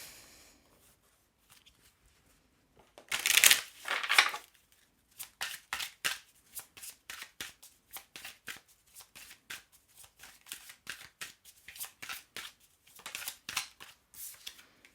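Oracle feeling cards being shuffled, starting with a quick riffle-like burst and followed by a long run of crisp, evenly spaced card snaps and flicks, close and clear against a quiet background.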